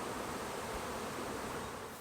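Honeybees fitted with small magnetic tags fly on a test flight, making a steady, dense buzzing hum close by that holds even throughout, with no speech.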